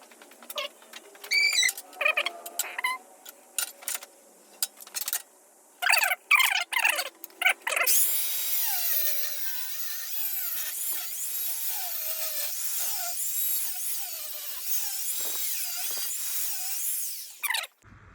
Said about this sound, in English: so I'm just going to go ahead and start cutting now.